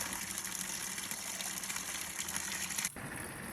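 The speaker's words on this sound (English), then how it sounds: "One of my favorite things to do is fill up my water in Sedona." Water gushes steadily from a spring in Sedona as a container is filled, a continuous hiss-like rush that changes character abruptly near the end, fairly faint and without voices.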